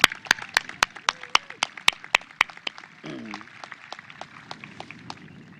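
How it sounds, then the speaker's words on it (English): Graduation audience at a 2022 high school ceremony gives a round of applause: sharp, separate claps ring out in a loose rhythm, fairly close, thinning out toward the end into scattered crowd noise. "Let's give them a round of applause."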